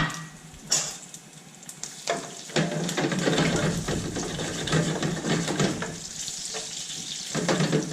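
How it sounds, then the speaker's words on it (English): Garlic sizzles in extra virgin olive oil in a pan, a close, steady crackling and hissing that swells after a quiet start and continues with small pops and stirring sounds. "Pour in a healthy amount of extra virgin olive oil. Add your garlic."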